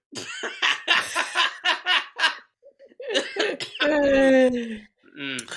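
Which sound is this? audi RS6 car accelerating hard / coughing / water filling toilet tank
coughing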